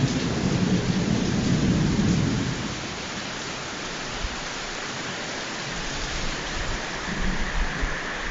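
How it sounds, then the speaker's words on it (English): Heavy rain pours steadily outdoors as a loud, dense wash of noise, with a deep rumble of thunder in the first couple of seconds before the downpour continues alone. "It is raining quite heavily"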